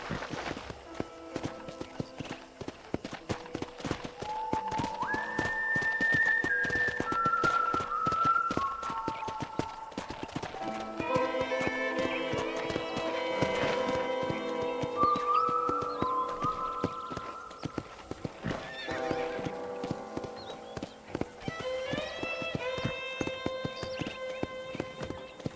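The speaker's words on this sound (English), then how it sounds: "let's see if you can still ride a horse." Horse hooves clip-clopping in a steady walking rhythm during a ranch ride in the Red Dead Redemption video game, with a brief whinny and sustained tonal music layered throughout at moderate level.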